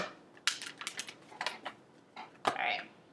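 Tarot cards being shuffled by hand: quiet, close crisp riffles and slaps in short irregular bursts, with a sharper snap near the end.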